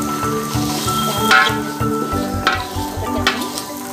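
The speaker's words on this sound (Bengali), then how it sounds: "এবার এটা একটু ভাজতে থাক" Chicken pieces fry in a pan for biryani, giving a loud, continuous sizzle with bursts of spatter and occasional stirring scrapes, close and unaccompanied by talk.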